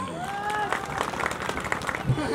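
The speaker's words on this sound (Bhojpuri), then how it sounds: "जोरदार ताली" Applause from a crowd at a Maha Shivaratri fair stage show, with steady dense clapping running under a loud announcer's voice for a couple of seconds.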